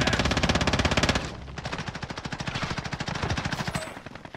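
Rapid automatic gunfire from Call of Duty Warzone, a dense loud burst that thins into a steady stream of evenly spaced shots lasting about four seconds.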